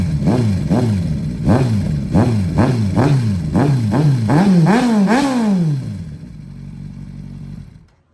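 A Kawasaki Z900 motorcycle at night, revved hard in a rapid series of about a dozen sharp, rising blips that climb higher toward the end, then drops to a low idle and cuts off, loud and close.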